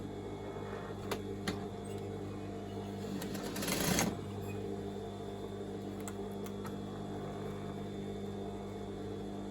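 Sewing machine stitching the waistband onto a homemade maxi skirt, a steady low mechanical hum running throughout at moderate level, with a brief louder burst of faster stitching near the middle.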